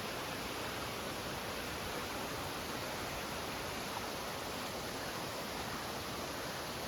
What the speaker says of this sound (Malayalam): നല്ല ഭംഗിയുള്ള വെള്ളച്ചാട്ടം ഇതാ